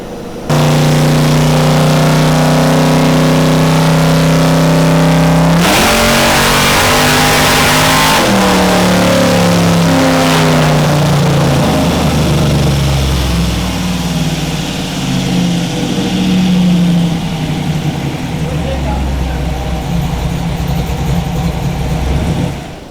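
Camaro on a dyno with nitrous setup, engine climbing through a loud sustained rev with harmonic tones, a sharp burst of roar, then dropping back toward a rough idle, close and very loud, no talk.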